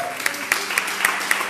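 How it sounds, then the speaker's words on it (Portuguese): Rhythmic clapping from a church congregation, with sharp claps landing at an even pace in a small, moderately quiet space. "aplaude ao Senhor"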